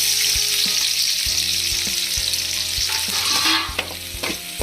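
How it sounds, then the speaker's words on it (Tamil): Onions fry in hot oil in a pan for a Tamil drumstick-leaf adai, giving a loud, steady sizzle with occasional stirring clatter and utensil taps, close and without speech. "வெங்காயத்தை போட்டு அது நல்லா வதங்கணும்"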